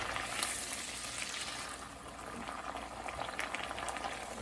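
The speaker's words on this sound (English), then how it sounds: "I'm going to cook this down until the liquid evaporates." Mushroom and tomato risotto broth bubbles and simmers in a pan, a steady, soft boiling and faint sizzle continuing throughout with no talk.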